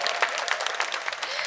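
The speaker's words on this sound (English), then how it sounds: "we really look forward to hearing more of your applause and your cheering." Audience applause at a chamber orchestra concert at National Gallery Singapore, a dense steady patter of clapping from a modest crowd, continuous and fairly loud for the whole moment.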